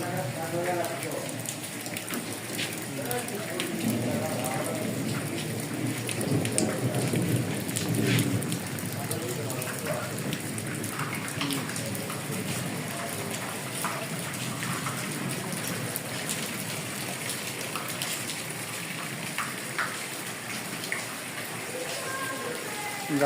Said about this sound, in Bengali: প্রচণ্ড বৃষ্টিতে